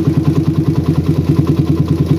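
A motorcycle engine fitted with a PWK carburettor runs at a low, uneven idle after a slight throttle opening, with a loud, close, steady pulsing throb and mechanical clatter as the revs sag.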